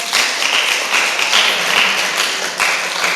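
Steady audience applause for a pastor at a Christian trivia night, a dense continuous wash of clapping that holds loud for a few seconds.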